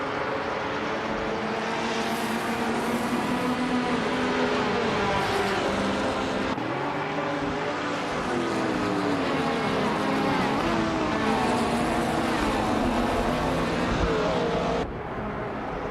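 Race cars roaring off the start line in a racing video game, a loud continuous engine drone with shifting pitch that holds for the whole stretch, with no voices over it.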